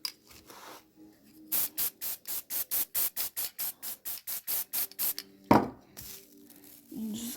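A spray bottle pumped in a quick series of about sixteen short, even bursts, close by, followed by a few more scattered sprays.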